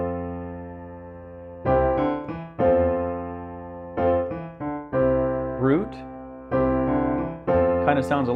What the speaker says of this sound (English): So that's the sound of a 1 and a 4 together.